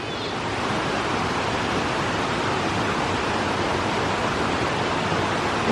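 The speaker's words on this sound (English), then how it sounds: "Can't even hear me because the creek is so loud." A creek rushes loudly and steadily at a campground in North Carolina, a dense broadband roar of water that stays constant and close throughout with no pauses.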